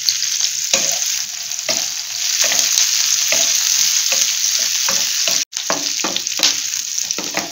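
Garlic cloves and ginger frying in a pan with onion for paneer do pyaza, a loud close sizzle broken by regular stirring scrapes and a brief dropout near the end.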